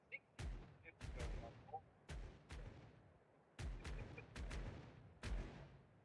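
Ship cannons firing a broadside in Caribbean Legend, a rapid series of about nine sharp booming shots in uneven clusters, each with a short rumbling tail, fairly faint overall.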